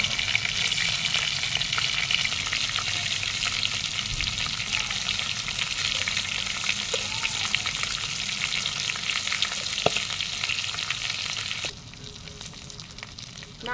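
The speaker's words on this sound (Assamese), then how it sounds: "মাংসখিনি ধুনীয়াকৈ ৰঙচুৱাকৈ ভজা হৈ গৈছে।" Chicken meat fries in a pan and sizzles loudly and continuously, with occasional scraping from stirring. Near the end the sizzle drops to a quieter level.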